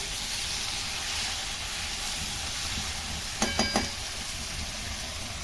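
Bitter gourd frying in ghee in a pan, a steady close sizzle and hiss throughout, with a few quick scraping stirs near the end.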